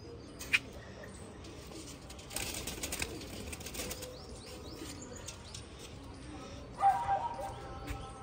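Pigeons kept for breeding, with soft cooing and chirps. There are bursts of wing flapping and some handling noise, and someone talks nearby at times.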